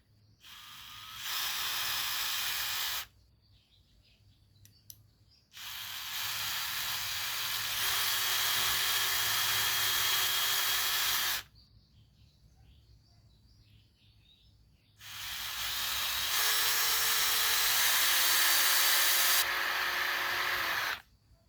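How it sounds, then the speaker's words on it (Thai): An ordinary electric drill bores a hole through the lip of a steel fishing lure in three long bursts of high whirring and grinding, separated by short pauses. "การเจาะนี่ไม่ได้ยุ่งยากเลยเราก็แค่ใช้สว่านเจาะธรรมดาเลยนะครับ"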